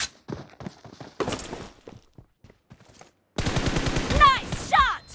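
Gunfire rings out in BGMI (PUBG), with scattered short shots at first and then a dense burst of rapid fire near the end. The shots sound moderately close.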